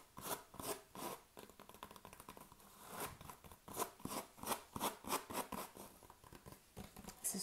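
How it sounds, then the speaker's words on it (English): Fingernails scratching on a foam roller, close and soft, with rapid bursts of rough scratches that quicken into a steady rhythm toward the end. "It's a foam roller. So there is a whole video on this that I just put out. And it makes awesome scratching sounds."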